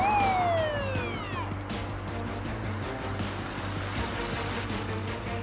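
An ambulance siren wails and sweeps downward at the start, then fades under a steady engine rumble and rushing noise for the rest.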